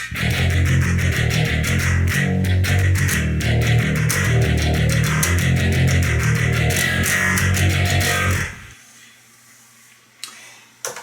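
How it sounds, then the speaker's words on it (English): Heavy, loud bass guitar-driven music pulses steadily, then cuts out abruptly near the end, leaving near silence with a couple of faint clicks. "that's the sound of the bass"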